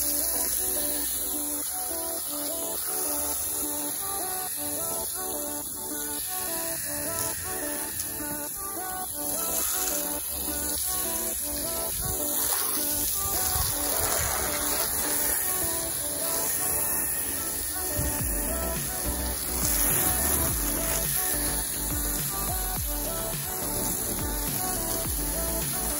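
Water spray rinses soap off a Ford Focus ST outdoors, a constant broadband hiss with a steady spray that varies only slightly as the stream moves over the car body.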